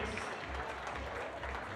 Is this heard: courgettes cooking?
no